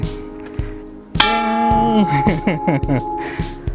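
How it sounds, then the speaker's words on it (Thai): A bell at a Thai hilltop temple in Khao Yai is struck by hand: two single ringing strikes, then a quick run of clangs whose tones overlap and ring on, close and loud, with faint voices nearby. "มีน้องๆตีระฆัง ระฆังชัยมาถึงแล้ว"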